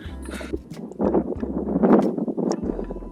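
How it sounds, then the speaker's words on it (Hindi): Strong mountain wind in the high Spiti region buffets the microphone with a steady low roar, rising in gusty surges through the middle of the stretch before easing slightly. "तेज हवा चल रही है, ऊपर और ज्यादा हवा मिलेगी।"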